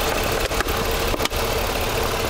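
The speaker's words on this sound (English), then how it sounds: "see how smooth the engine's running right now?" A car engine idles smoothly under the open hood, a steady, even hum with a few small dips in level.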